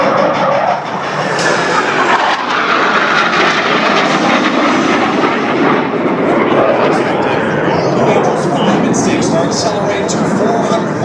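Blue Angels jets in formation at a 2012 air show fly past as a loud, continuous roaring rush that holds steady throughout, with an announcer talking over it.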